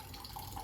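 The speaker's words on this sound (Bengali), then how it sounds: "এই দেখুন ভরার আওয়াজ শুনেই আমি বুঝতে পারছি জলটা ভরে গেছে" Tap water running steadily into a container, a dense close rushing splash with a rising gurgle as the vessel nears full, continuous and alone without voices.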